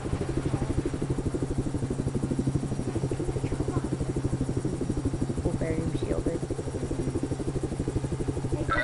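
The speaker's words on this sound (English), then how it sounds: "Get in the chopper!" A helicopter in the video game Just Cause 3 thumps with a steady, rapid rotor beat that runs throughout, with a voice speaking over it.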